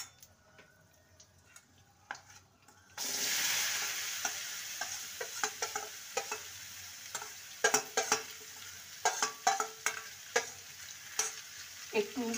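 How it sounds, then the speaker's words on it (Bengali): Spiced okra drops into a pan of hot oil with fried black cumin seeds for a dhaba-style fry. A loud, steady sizzle starts abruptly partway through, broken by repeated clicks and scrapes of a spatula stirring against the pan. "যে মশলা মাখানো ভেন্ডিটা দিয়ে দেবো"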